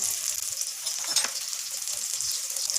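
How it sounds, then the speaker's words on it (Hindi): Breadcrumb-coated potato kebabs fry in a pan, a steady close hiss of bubbling oil with faint crackles, no voices. "सारे कबाब में इस तरह फ्राई करूँगी।"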